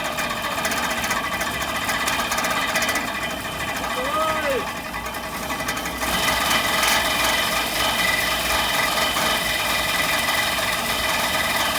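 A Frandee Sno Shu Model E snowcat's engine runs steadily just after a cold start with the choke fully closed, a loud continuous mechanical drone with rapid rattling vibration, close by, and it grows a little louder partway through as a person talks over it.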